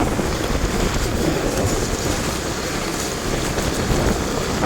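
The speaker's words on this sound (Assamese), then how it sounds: "বৰষুণ দি আছে" Continuous rain hisses steadily, with a rough, wind-buffeted rumble on the microphone throughout and no voices.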